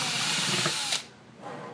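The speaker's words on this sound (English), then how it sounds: "do take caution when you're drilling through this lovely plastic stuff" A power drill whirs loudly, boring through a plastic bucket for about a second, then cuts off, leaving a quieter hum afterward.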